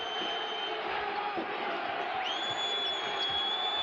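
A basketball arena crowd roars and cheers at an NBA game between the Cleveland Cavaliers and Orlando Magic, a steady wash of noise with whistle tones rising above it.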